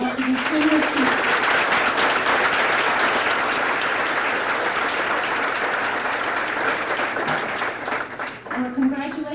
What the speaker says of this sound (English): So please give a round of applause for these generous people.